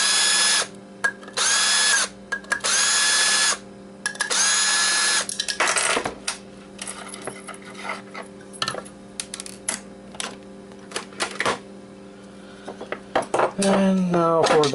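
A power tool unscrewing a magnet from scrap, probably a hard drive: loud close bursts of high whirring, starting and stopping in short runs, with metallic clinks and rattles between them and at the end.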